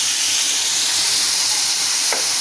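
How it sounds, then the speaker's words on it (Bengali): Coriander leaves fry lightly in hot oil with chillies, garlic and onion, giving a loud, dense, continuous sizzle close by. A single faint clink sounds near the end. "এখন আমি ধনে পাতাগুলো একটু হালকা ভেজে নেব।"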